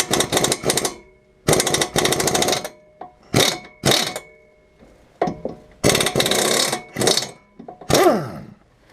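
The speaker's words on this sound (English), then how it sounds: "I am going to use my air gun for a second." A pneumatic impact wrench rattles in loud repeated bursts on the brake bracket-to-spindle bolts of a 2005 Subaru Legacy GT front brake, each burst about a second long with short pauses between and a final whining spin-down.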